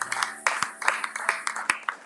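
A church congregation at a Sunday service claps together, giving a sharp, rhythmic run of handclaps at an even beat, close and bright, with no voices over it.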